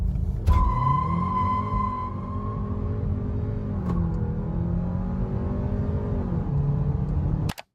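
A Volkswagen GTI launching hard from standstill through a 0 to 100 run with wheel spin, engine revving loud and close, pitch rising and dropping across several gear changes before cutting off.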